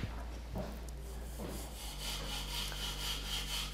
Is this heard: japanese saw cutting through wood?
yes